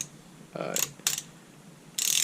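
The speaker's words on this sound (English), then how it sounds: "you want to make sure that these are getting torqued down" Ratchet wrench clicking in three short bursts while bearing cap bolts on a Toyota 7AGE engine are torqued down, close and fairly loud against quiet shop background, no talking.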